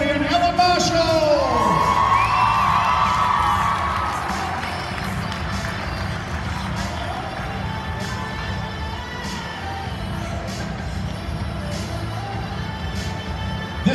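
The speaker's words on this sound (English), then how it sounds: "make sure you guys scream really loud" Family members in a crowd at a high school promenade scream, whoop and cheer loudly at first, then the noise settles into a sustained crowd roar with scattered shouts.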